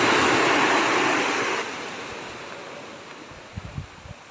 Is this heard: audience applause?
no